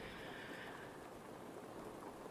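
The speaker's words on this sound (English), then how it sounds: "I do love the sound of the rain" Steady soft rain falling in a forest, a constant even hiss of drops with no distinct thunder, faint and continuous throughout.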